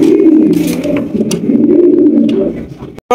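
A large king pigeon coos loudly and close by, a low, rolling throaty call that swells and repeats without a break before cutting off abruptly at the end.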